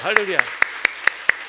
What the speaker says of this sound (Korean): 우리 철산교구 너무 박수 한번 쳐주시기 바랍니다